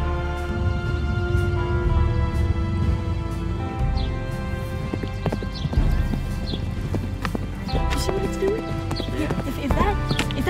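Mechanical horse clip-clopping in a steady, continuous run of hooflike clatters, close and fairly loud, with neigh-like whinnies mixed in and a voice talking over it throughout.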